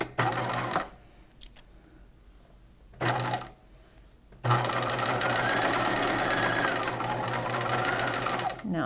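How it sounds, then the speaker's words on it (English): Short bursts of a sewing machine stitching a bodice seam at 5/8 inch with a 2.5 stitch length, a brief run, a pause, another short burst, then a longer steady close run toward the center front, with quiet handling between. "Now I'm stitching towards the center front circle, and when I get there, I'm gonna pivot."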